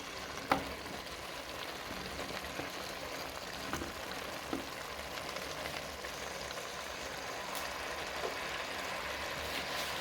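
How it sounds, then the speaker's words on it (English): Potatoes and vegetables fry in a pot with a soft, continuous sizzle, broken by occasional clinks and scrapes of stirring, fairly quiet and without voices. "You mix and let the potatoes meet up with the rest of the vegetables"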